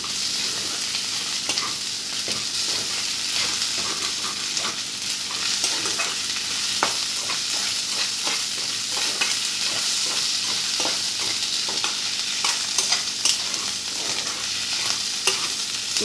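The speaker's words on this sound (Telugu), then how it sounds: "కొంచెం అల్లం వెల్లుల్లిపాయల పేస్ట్ యాడ్ చేస్తున్నాను, 1 స్పూన్." Onions fry with ginger garlic paste for a prawn curry, giving a dense, constant sizzle with frequent stirring scrapes and crackles, close up and steady throughout, with no talking.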